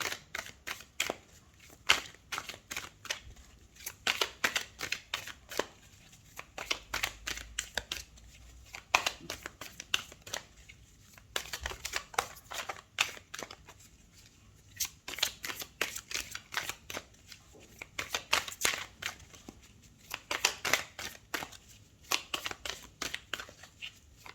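Tarot cards are shuffled for a Valentine's reading, with repeated bursts of quick riffling and card slaps in an even rhythm, close and moderately loud, and no talking.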